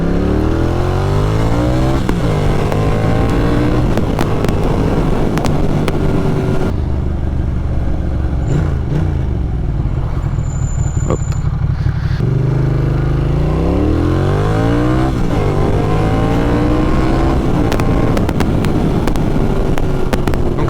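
Ducati Monster 620ie motorcycle engine running loud and steady while being ridden, its pitch climbing and falling through gear changes, with a quieter off-throttle stretch in the middle before it pulls hard again.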